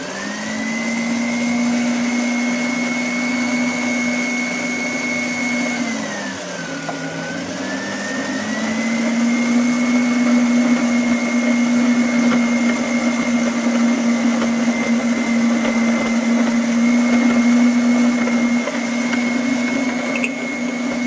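A kitchen machine kneading strudel dough runs as a steady, loud motor whine that dips briefly in pitch under load, then holds a constant hum.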